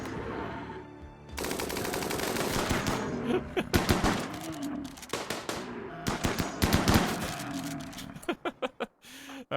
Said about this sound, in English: The damn minigun.